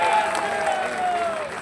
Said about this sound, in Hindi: एक बार जोरदार तालियां जनता जनार्दन के लिए बजती रहनी चाहिए देर तक